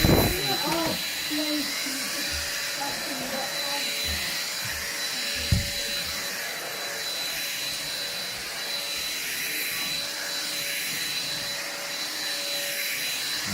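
An Ambiano vacuum cleaner from Aldi runs continuously with a steady high-pitched whine and airy roar while cleaning carpet debris in a kitchen, a faint thump midway and a brief voice near the start.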